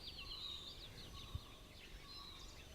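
Various wild birds singing in Bandhavgarh forest, India: faint, scattered chirps and short whistled notes from several birds, heard at a distance over a quiet woodland hum.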